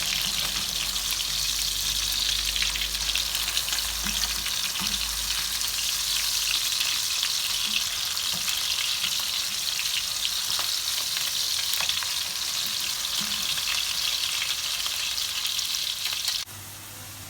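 Burger patties and potatoes frying in oil in a home kitchen, a steady dense sizzle and crackle that runs unbroken and fairly loud, with a few soft clinks underneath, cutting off abruptly near the end.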